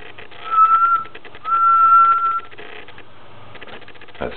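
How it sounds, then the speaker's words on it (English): A person whistles into a microphone feeding a ham radio amplifier, two sustained steady high tones, the second longer, heard close and alone over faint background hum. "I'm going to whistle into the microphone."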